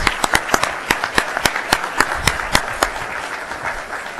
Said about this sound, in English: Let's give our teachers another big round of applause.